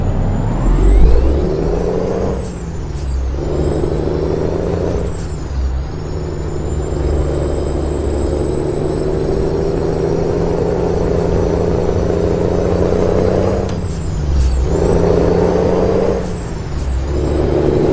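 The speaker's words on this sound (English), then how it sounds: "FedEx trucks going out for delivery." FedEx trucks rolling out in American Truck Simulator: a steady engine drone with a high whine, broken by several loud hissing air-brake releases, close and alone without talk.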